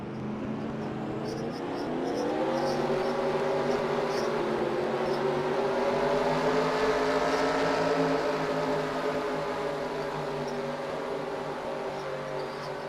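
A field of dirt-track race cars rolls behind the pace car with engines droning steadily, a rising and sustained engine hum that swells and holds, with an announcer's voice talking over it.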